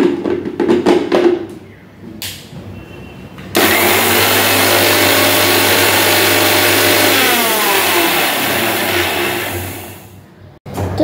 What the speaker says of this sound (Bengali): তো এইটাকে প্রথমে শুকনো বেটে নিতে হবে।